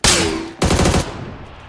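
Two bursts of rapid gunfire in the video game PUBG, loud and close, the first a sharp blast fading out, the second a quick rattling volley.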